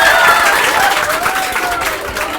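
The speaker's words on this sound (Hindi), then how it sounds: "तो इनका खूब सारी तालियों से स्वागत हो जाए" Loud, close applause from a crowd at a coaching class farewell celebration welcoming a senior teacher, many hands clapping steadily with a faint background voice or whistle-like tone under it.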